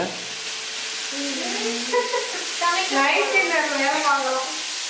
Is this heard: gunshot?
no